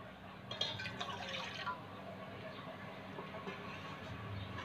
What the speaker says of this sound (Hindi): एक पैन में डालेंगे हम पानी